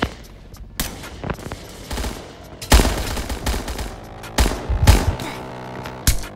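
Bursts of rapid automatic gunfire and single heavy shots ring out in a shooting video game set in Chicago Remastered, loud and close, arriving in several separate volleys with short pauses between them.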